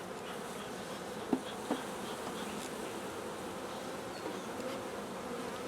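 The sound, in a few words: honeybees buzzing around hive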